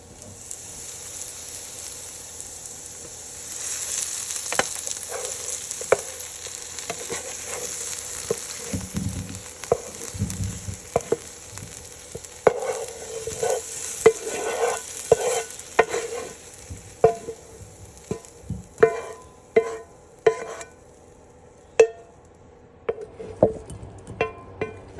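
Canned O'Brien potatoes with peppers and onions fry in a pan, a close, steady sizzle broken by frequent clinking scrapes of the spatula as they are stirred, with no voices.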